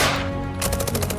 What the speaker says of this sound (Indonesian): Dalam hujan tembakan dan serangan udara terus-menerus